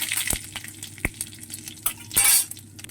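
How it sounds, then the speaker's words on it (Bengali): A spoonful of fennel seeds sizzles in mustard oil, a fairly faint crackle broken by a few sharp clinks and scrapes of a spoon against the pan, with a louder hissing burst near the end. "এখানে মৌরি ফোড়ন দিলাম এক চামচ"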